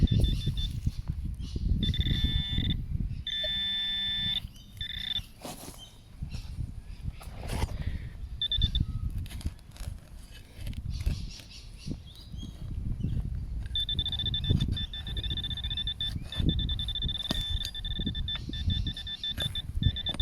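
Repeated high electronic beeping from a metal detector pinpointer in bursts, warbling on and off over rustling, scraping handling noise close by in a park; no talking.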